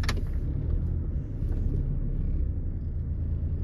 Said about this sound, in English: Car can go backwards and forward.